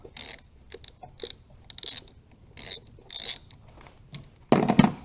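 A hand ratchet unscrews a car battery terminal in short bursts of rapid close clicking, about seven strokes with pauses between, ending in a louder clunk as the terminal comes loose.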